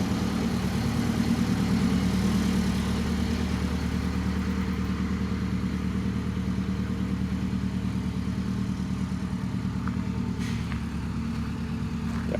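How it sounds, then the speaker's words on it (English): A bus with a Detroit Diesel 8V71 engine drives along a new road, its low diesel drone steady and continuous for the whole stretch, with no talking. "goes the first bus down the new road"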